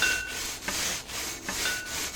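BBQ grill wire brush scrubbing rust off metal, a loud close scratchy rasp in repeated back-and-forth strokes, with brief dips between each stroke.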